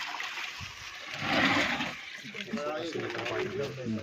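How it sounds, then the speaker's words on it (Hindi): Water pours and splashes into a drum being filled with 180 litres for an organic farming mix, a steady gushing trickle with a louder surge midway, while someone talks over it. "180 लीटर पानी से भर देना आपने इसको।"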